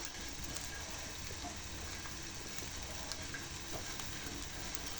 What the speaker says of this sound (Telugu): ఇట్లా మంచిగా వేయించుకోవాలండి రొయ్యలు